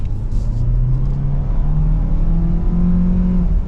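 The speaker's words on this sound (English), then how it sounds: "in sport mode, you definitely feel and hear the engine a lot kicking in" A 2024 Hyundai Sonata Hybrid Limited engine drones steadily with rising harmonic tones as it accelerates in sport mode, a continuous loud rumble heard from inside the sedan, no talking.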